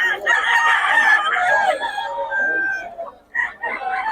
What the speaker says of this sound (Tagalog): manok ni Boss Chachat